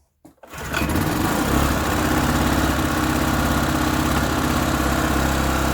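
Small petrol generator on a workbench, with no power output, running steadily after a choke start: a loud, constant buzzing engine drone that kicks in after a brief cough and holds an even idle throughout.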